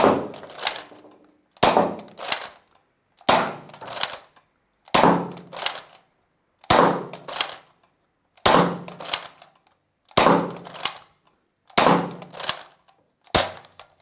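Buzzbee Thundershot toy blaster firing darts for a velocity test: nine sharp, loud pops spaced about every 1.6 seconds. Each shot is followed by a short mechanical click or clack, and no one speaks.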